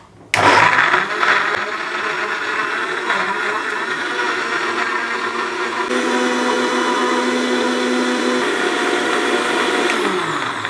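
A multi-juicer mixer running at twelve to fourteen thousand rpm grinds coconut and tomato chutney, with a loud, steady whirring drone that starts abruptly and continues without pause.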